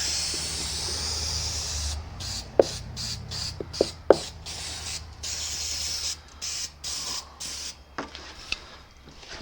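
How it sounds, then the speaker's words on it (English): Adhesive sprayed onto wood and boat carpet while refitting a 1993 Tracker boat with a Johnson 40hp: several short hissing spray bursts, close up, with sharp clicks and knocks in between. "Now we'll do one last spraying, which is on this part of the wood."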